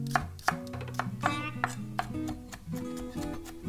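A knife minces cucumber pepper on a cutting board in quick, irregular taps, heard close under a voice speaking over music.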